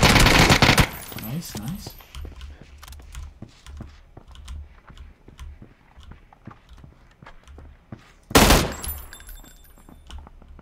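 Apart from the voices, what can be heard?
gunfire from a video game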